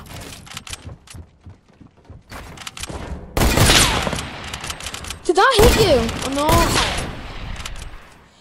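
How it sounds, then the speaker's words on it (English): Fortnite gunfire and body-shot hit effects crackle in rapid bursts, quieter at first and then turning into loud, dense volleys, while a player talks over part of the shooting. "It had that like kind of body shot sound effect."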